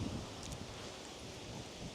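Strong wind blows steadily through a sunny home garden, rustling leaves and buffeting the microphone with a constant broadband roar and no talk.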